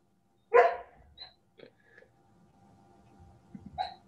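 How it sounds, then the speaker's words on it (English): A sleeping dog lets out one sudden muffled bark-like huff, then a few faint whimpers, snuffles and squeaks trailing off before another soft yelp near the end, close by in a quiet room. "so if you hear weird dog noises"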